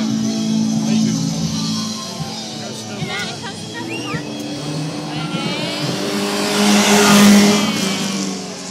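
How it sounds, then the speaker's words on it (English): Rally cars race past with engines revving and rising to a loud roar, then fading, while people talk nearby throughout. "More racing cars, yeah?"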